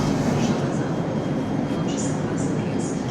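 Steady low rumble of a moving passenger train on an international route from Lithuania toward Budapest, heard from inside a carriage, constant and close with no breaks.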